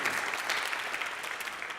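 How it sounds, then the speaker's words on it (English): A brief, thin smattering of applause from the audience at a candidates' forum, a few hands clapping fairly faintly for under two seconds with no talk over it. "Very grateful for that smattering of applause"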